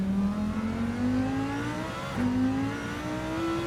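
A race car in Gran Turismo 7 brakes hard into a corner and slides loose, its engine note droning and shifting pitch while the tires whir continuously, loud and close, with no talking.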